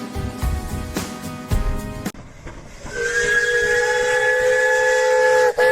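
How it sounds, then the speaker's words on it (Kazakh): A chugging train rumble gives way to a long, steady, hissing steam whistle that holds for several seconds before cutting off abruptly. "Аппақ пойыз келе жатыр, тук-тук-тук."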